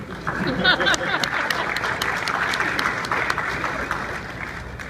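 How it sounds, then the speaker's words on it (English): A banquet audience bursts into applause and cheering, a steady wash of clapping that holds at moderate level and fades slightly toward the end, with a few scattered voices mixed in. "Don't cheer too loud"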